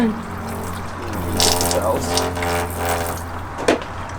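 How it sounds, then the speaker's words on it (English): Coolant pours from a car radiator during replacement with a new Koyorad unit, a steady splashing stream under a low hum, with brief speech-like sounds over it. "this is how you do not drain your coolant"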